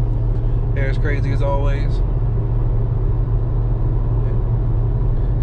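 A car cruising down the road with its engine running at a steady, even speed, a constant low drone that fills the whole clip while someone speaks briefly near the start.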